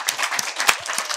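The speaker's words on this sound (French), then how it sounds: "On applaudit très très fort pour eux" A television studio audience applauds in a brief burst of dense, close clapping, lively and fairly loud from start to finish.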